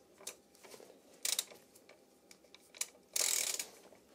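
A wrench works loose the bolts on a Kawasaki Z1000SX sprocket during a chain and sprocket change, giving a few sharp metallic clicks and two louder ratcheting bursts near the mic, with no talk.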